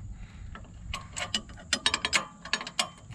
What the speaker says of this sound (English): I'm just gonna snug them down with this. Slide a wrench in there.